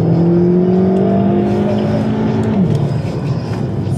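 A Porsche engine hums loudly from inside the cabin on the Haute Saintonge race circuit, holding a steady pitch before dropping off as the throttle eases, with no voices.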